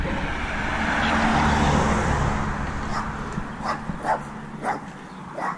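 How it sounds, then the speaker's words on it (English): A few short barks from a dog some distance away, heard over the steady rumble of passing road traffic and wind. "Oh, there's a dog."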